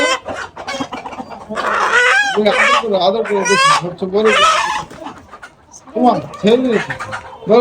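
A big white rooster clucks and calls loudly at close range in repeated bursts, its harsh voiced cries rising and falling amid other fowl, with short pauses between calls.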